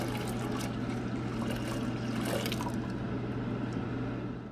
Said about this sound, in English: I'm going to add my milk to my pot. So this is 2 cups of evaporated milk.